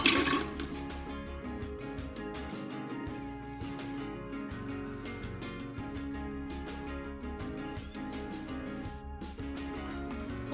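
Cold water, about one and a half to two litres, pours into a butter churn machine, a continuous gurgling, splashing stream with rippling tones, close and moderately quiet, with no talk.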